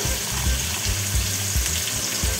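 About three tablespoons of oil sizzle in a karai previously used for frying fish, a loud, dense and steady crackle over the whole short stretch.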